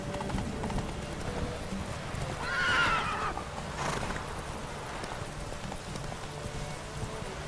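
In The Witcher 3 video game, a horse whinnies loudly once mid-clip, with steady hoof clip-clops and a second fainter neigh amid low background game ambience.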